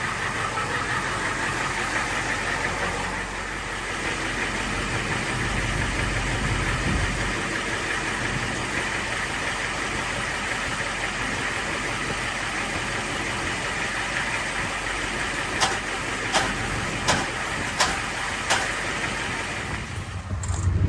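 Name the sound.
IDI diesel engine of a Dodge Ram running loudly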